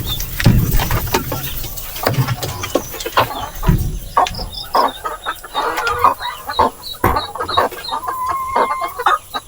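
Farmyard hens cluck and chatter continuously at close range, a busy mix of short clucks and higher calls with occasional rustling and thumps.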